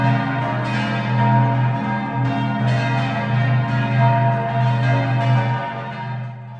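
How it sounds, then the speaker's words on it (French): Several church bells of the collegiate church of Romont, Switzerland, ring together in a full, continuous peal without the bourdon, loud and resonant with overlapping strikes and a sustained humming tone underneath. "où on aime faire sonner à toute volée les cloches, sauf le bourdon"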